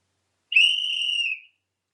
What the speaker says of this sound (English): A whistle blew,